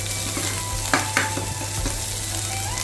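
Onions sauté in a pan for uppumavu, the semolina breakfast dish, with a constant close sizzle and a couple of brief scraping stirs over a low steady hum.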